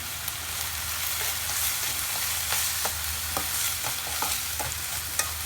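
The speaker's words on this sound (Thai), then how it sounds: "ผัด ง่ายๆแบบนี้เองค่ะ" Khua kling being stir-fried with chili and finely sliced kaffir lime leaves, a steady close sizzle with repeated scraping stirs of a spatula in the pan, no talking.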